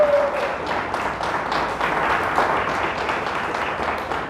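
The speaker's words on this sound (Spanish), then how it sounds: "Dele fuerte el aplauso a Dios." A church congregation applauds during a sermon, dense steady clapping from many hands filling the room at an even level, with no voices rising above it.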